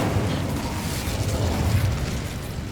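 Incendio fire spell cast in Hogwarts Legacy, a steady broad whooshing blaze with low rumbling bursts, sustained and fairly loud throughout with no talk.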